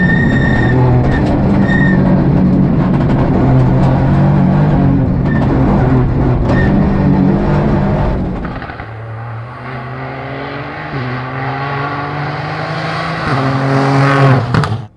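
Peugeot 208 Rally4 race car driven hard on a track, its engine loud and close throughout, revving through gears with rising pitch sweeps and rapid shifts, easing off briefly before accelerating again.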